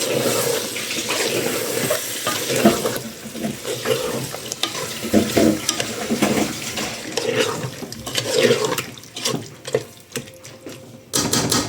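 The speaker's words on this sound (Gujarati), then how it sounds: "બટેટા હોય તો બિરયાની માં હારા લાગે હવે ફેરવી લઈએ આપણે" A spoon stirs shrimp biryani masala with potatoes in a pot, giving uneven scraping and sizzling bursts that rise and fall, with a brief watery rush near the end.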